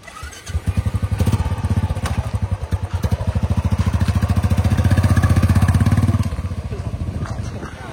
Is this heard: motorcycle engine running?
yes